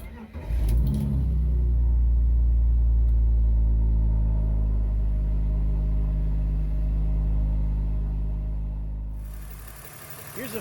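A BMW E46 engine fires up after a coolant hose replacement, a loud close start settling into a steady, deep rumbling idle before cutting off near the end.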